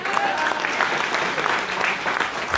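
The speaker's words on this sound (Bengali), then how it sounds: "বসের জন্য জোরে একটা তালি দেন।" An audience at a company gathering claps loudly and steadily for their boss, a thick wash of many hands with faint crowd murmur beneath.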